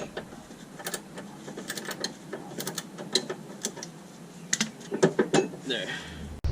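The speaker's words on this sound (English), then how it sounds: "Okay, I tightened it too much, so I'm gonna loosen it a little bit just so I can move it around freely." A wrench loosening a 15 mm bolt on a Steeda subframe brace under a 2015-2017 Mustang, giving quick bursts of ratcheting clicks in an uneven rhythm, close and moderately quiet.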